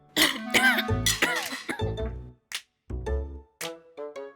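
A person coughs and clears their throat several times in a run of harsh, breathy bursts with short gaps between them, close and fairly loud, with no speech.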